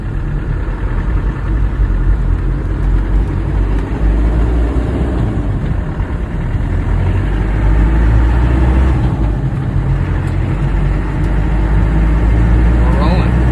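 A 1997 Land Rover Defender pickup rolls along in third gear, its engine droning loud and close with continuous low rumble and road noise throughout; no one speaks over it.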